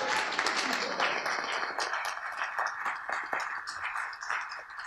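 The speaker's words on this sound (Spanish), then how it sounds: "Bueno, un aplauso para Natalia." An audience applauds Natalia, an undergraduate creative writing student, at a formal university event: a dense, steady patter of many hands clapping, moderately loud, that holds for several seconds and tapers slightly near the end.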